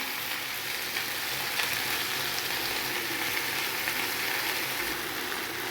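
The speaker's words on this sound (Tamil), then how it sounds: "ஸோ இப்போ நம்ம வெண்டைக்காவை போட்டுக்கலாம் ஃப்ரெண்ட்ஸ்." Okra (bhindi) sizzles in a pan with oil as a simple fry curry cooks, a steady, even crackle running continuously at moderate level with no talking.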